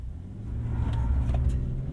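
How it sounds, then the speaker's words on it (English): A 2022 Nissan Frontier PRO-4X pickup launches with traction control off on a half-pavement, half-dirt surface, its engine rumbling low and climbing steadily in a hard rev, loud and close from inside the cab. "Rips pretty hard up at the top revs, and then full brakes."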